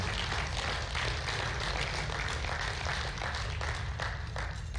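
Audience applause for the powerlifters at the 2019 USA Powerlifting Open Nationals, a continuous wash of many hands clapping, heard from some distance in a large hall and fairly faint throughout.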